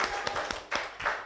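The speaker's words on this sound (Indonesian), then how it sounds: "kasih tepuk tangan untuk Zahrana." A classroom of students clapping for a classmate in a few uneven, scattered bursts, close and fairly faint, with no talking.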